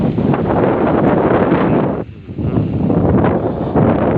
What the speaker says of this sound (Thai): พาทุกคนมาต้อนรับลมหนาวครับผม